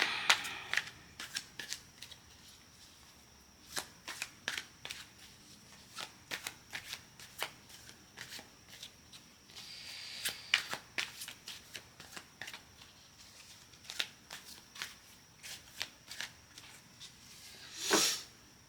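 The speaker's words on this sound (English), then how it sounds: "just shuffled the deck." A tarot deck is shuffled repeatedly in quick riffling bursts, with soft taps and rustles in between, close and fairly quiet, ending in a louder flurry.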